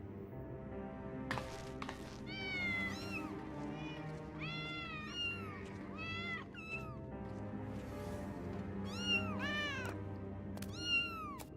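Several cats meowing in the video game Final Fantasy XIV, repeated rising and falling calls overlapping one another over a soft steady background, fairly close.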